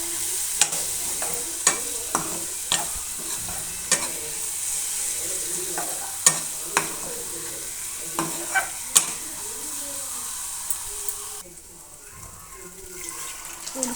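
Spoon stirring dal tadka with garam masala in a pan, sharp scraping clicks at irregular intervals over a steady sizzle, with a quieter stretch near the end.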